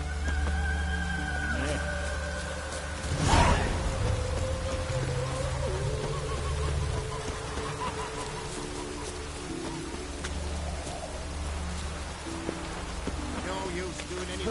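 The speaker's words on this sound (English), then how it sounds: "No use doing any work in this rain." Continuous rain patters steadily over ambient music in The Witcher 3, with a brief loud burst near the start that could be a thunderclap.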